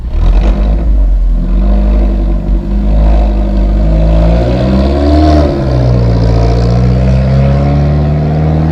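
An Alfa Romeo 4C's 1.8 turbo engine revs loudly and steadily up close, its pitch rising and falling through the rev range with a deep, throaty drone.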